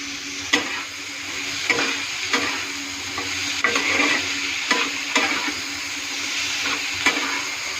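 Turmeric being stirred into a frying mixture in a pan, a steady sizzle with a string of sharp spoon scrapes and taps spread through it, close and moderately loud, with no talk.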